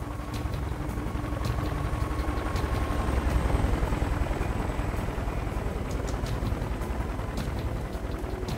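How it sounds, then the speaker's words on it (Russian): A helicopter in the Singularity video game drones overhead in a steady, loud, rotor-driven roar that holds for the whole stretch, with no voices. "Вертолет! Только не наш!"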